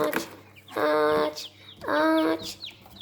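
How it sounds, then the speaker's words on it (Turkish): Two long, clear harmonic calls from chicks and quail, close by, with soft peeps and rustling in between. "Daha doğrusu civciv ve bıldırcın."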